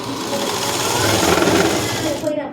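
A sewing machine double-stitches a dress top with a continuous, close whirring hum that eases off just before the end, while someone talks.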